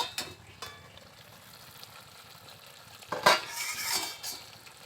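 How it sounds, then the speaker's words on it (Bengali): A metal lid clanks as it comes off a pot of chicken curry, a brief close knock and rattle, with a soft sizzle of the simmering meat underneath. "এবার ঢাকাটাকে আবারও খুলে দেব।"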